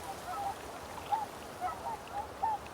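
Swans call on open shallow water, making soft honking notes that repeat at irregular intervals over about three seconds. The calls sound faint and distant against a quiet, breezy outdoor background.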